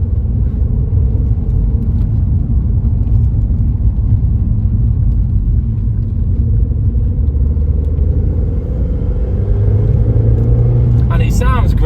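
A 1.8-litre turbocharged Audi TT engine pulls under acceleration, a steady, loud low rumble and drone that holds for the whole stretch and rises slightly near the end.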